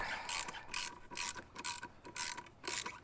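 A 12mm socket ratchet loosens an exhaust hanger bolt on a Suzuki VanVan motorcycle. Close, rasping ratchet clicks come in about six rhythmic strokes with short pauses between them, and no one speaks.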